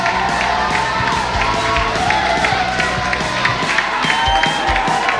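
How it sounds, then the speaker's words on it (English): Studio audience at a poker league results show claps and cheers as a sixth-place team is announced, a steady continuous wash of crowd noise with music or rhythmic beats underneath. "Round of applause for Jaipur Jules."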